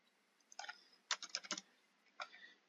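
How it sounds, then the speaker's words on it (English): Fingers typing on a computer keyboard during an online language class, heard as three quiet, scattered bursts of keystrokes with short pauses between them and no voices. "type in the correct answers here"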